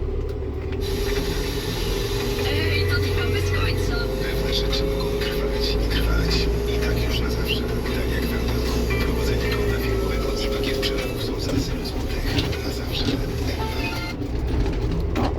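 Inside a tractor cab, the engine drones steadily while it drives along hauling cattle manure, a constant low rumble with a faint hiss, and someone talks quietly over it.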